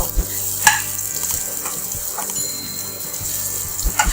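Green chilies frying in a pan, giving a steady loud sizzle with faint stirring scrapes and a few sharper spits and clinks, heard up close with no talk.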